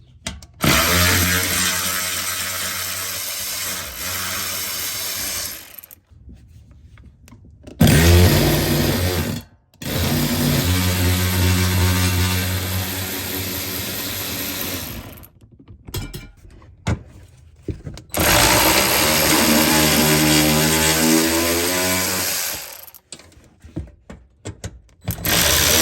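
A power tool fitted with a 5/16 bit drives bolts out of the underbody cover of a 2016 Ford Expedition, giving several long, loud, whirring runs separated by brief pauses, close up and with no talk.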